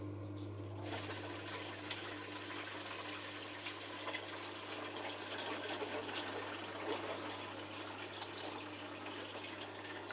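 Zanussi washing machine draining water, a steady gushing rush close by over a constant low pump hum, continuous and unbroken throughout.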